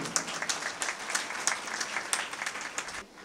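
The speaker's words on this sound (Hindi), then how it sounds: "आपकी तालियों की गूंज यहाँ से आगरा" An audience at an Urdu mushaira poetry gathering in Bhiwandi claps in a dense, sustained burst of applause with small surges, fading out just before the end; no voices over it.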